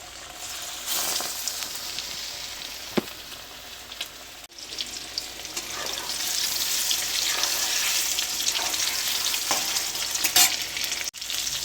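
Chicken pieces for dragon chicken sizzle steadily in hot oil in a pan, with scraping stirs and a few sharp clatters of a utensil against the pan throughout; no one speaks.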